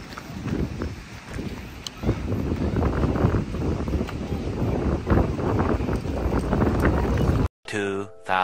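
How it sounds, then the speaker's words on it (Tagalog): Strong wind buffets the microphone at Kugami beach in Tottori, Japan, with rough waves roaring and churning underneath in a loud, continuous rush before cutting out abruptly near the end. "Malakas-lakas nga po ang alon dahil malakas po ang hangin."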